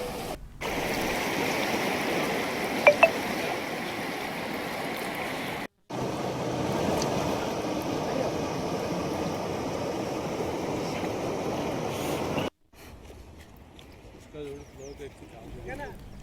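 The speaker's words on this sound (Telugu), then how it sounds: "అది కాస్త తెగిపోవడంతో నీరు వృధాగా పోతోంది." Water rushes steadily out of a breached check dam, a broad, loud roar that runs almost without pause, dropping to a quieter flow near the end, with a voice speaking over it.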